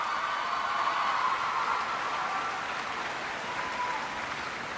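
Audience applause at a presidential speech in Florida, a dense, steady wash of clapping at moderate distance that swells slightly and then eases over a few seconds.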